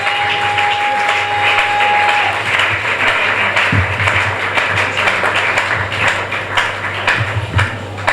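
A church congregation applauds steadily and loudly throughout, a dense wash of many hands clapping with a faint tone and some low hum underneath.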